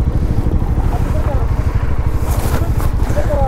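Bajaj Dominar 400 motorcycle engine idling and pulsing steadily while the rider maneuvers around a truck on a Ladakh mountain road, with loud low rumble throughout, wind noise and faint chirps over it.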